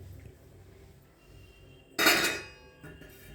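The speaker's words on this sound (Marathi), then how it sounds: "झाकण ठेवते।" A lid set down on a cooking pan while making wheat-flour nankhatai gives one sharp, bright metallic clank followed by a short ringing decay and a fainter knock, close by in a quiet kitchen.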